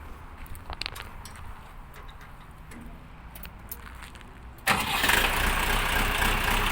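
A Shifeng 404 mini tractor engine cranks and catches, breaking into a loud, steady running roar after a few seconds of quieter background noise.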